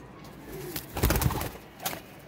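Pigeons cooing on a rooftop loft, a few soft throaty coos clustered near the middle with a brief rustle, fairly close with a quiet background.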